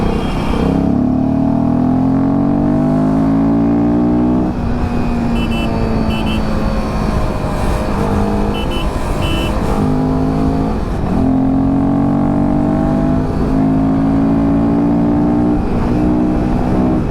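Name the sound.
adventure motorcycle engine accelerating in fourth gear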